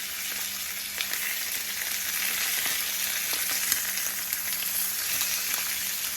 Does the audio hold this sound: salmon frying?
yes